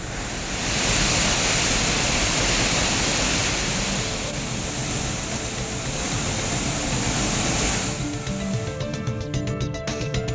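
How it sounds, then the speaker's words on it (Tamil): Floodwater roars down the Suruli waterfall after heavy rain, a loud, dense, unbroken rush of falling and churning water filling the whole span, with the torrent shifting slightly in texture near the end. "சுருளி அருவியில் வெள்ளப்பெருக்கு ஏற்பட்டுள்ளது"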